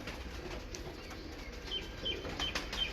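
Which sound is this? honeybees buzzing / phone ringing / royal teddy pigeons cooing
royal teddy pigeons cooing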